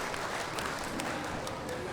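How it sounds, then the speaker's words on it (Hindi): Loud, dense applause from a gathered crowd of farmers at an outdoor Green TV Kisan Chaupal meeting in Mathura, steady clapping filling two seconds with no pauses. "तो सबसे पहले एक बार जोरदार तालियां हमारे उन सभी किसानों के लिए"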